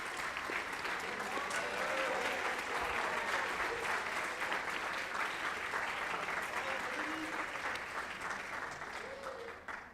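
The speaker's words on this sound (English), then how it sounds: "we could give them a real quick applause so we can recognize them" A crowd at a high school class day awards ceremony gives quick, steady applause for French 104 students, dense clapping running throughout at moderate level with faint voices underneath, tapering off at the end.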